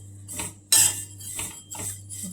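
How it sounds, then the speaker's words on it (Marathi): A spatula scrapes and clinks against a kadai as thin vermicelli is quickly stirred and roasted, several bright metallic scrapes in an uneven rhythm with one louder clank. "कमी फ्लेमवर अगदी असं पटपट हलवत भाजून घ्यायच्या"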